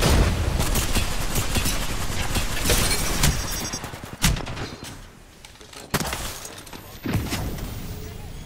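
Grenades burst in a video game shooter, several sharp blasts landing at intervals amid steady gunfire and a busy battle din.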